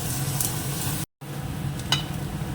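Spices and sugar being stirred in a hot cooking pan, a close, steady sizzle with scraping stir strokes, broken by a brief silent gap before the frying resumes.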